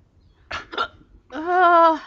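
A woman hiccups twice in quick succession, two short close bursts, then lets out a brief voiced, whine-like sound right after.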